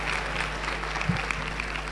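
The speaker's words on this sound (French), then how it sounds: "Acclamation, suivant." A church congregation applauds during a worship service, a steady patter of clapping from many hands at moderate volume that lasts the whole two seconds.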